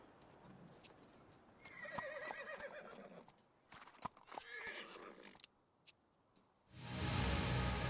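A horse whinnies twice in a video game amid light clip-clop hoofbeats and clicks, followed by a sudden burst of loud noise at the end.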